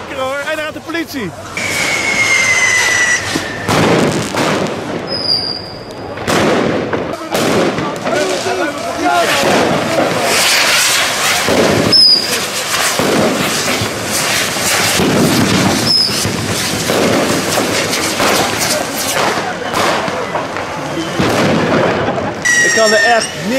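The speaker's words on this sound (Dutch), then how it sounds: "al die harde knallen door de hele stad, iedereen doet mee" Loud fireworks bangs and crackles burst repeatedly near and far across a Dutch city, with whistling rockets and excited voices talking and shouting in Dutch throughout.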